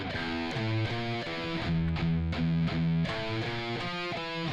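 Distorted electric guitar plays the harmony section of a song: sustained, harmonized notes step through a moving melodic line, loud and continuous with no talking.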